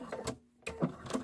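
Short bursts of a sewing machine back stitching around the bottom of a small fabric egg, two quick runs split by a brief pause, close and alone.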